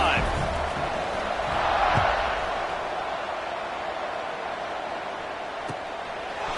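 A stadium crowd in an NCAA football video game keeps up a broad, steady roar that swells briefly and then holds at a constant level, with voices talking over it.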